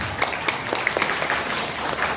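An audience in a hall at a Nahdlatul Ulama centenary gathering in Genteng breaks into applause, a dense, steady patter of many hands at moderate loudness with a few sharper claps standing out.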